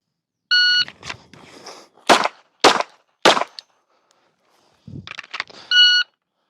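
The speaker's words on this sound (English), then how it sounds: "On the beep, we have 5 seconds to put 3 rounds on target while retreating back to the 7-yard line." An electronic shot timer beeps, then three pistol shots ring out in quick succession, fired while the shooter retreats from the 3-yard to the 7-yard line, and a second timer beep closes the string.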